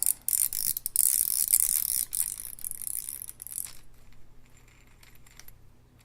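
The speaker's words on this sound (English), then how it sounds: "next we're going to take off the star drag. Just go backwards with it." The star drag on a KastKing WhiteMax baitcasting reel is turned off by hand, giving rapid, close ratcheting clicks that are crisp and busy at first, then thin out into softer, sparser clicks.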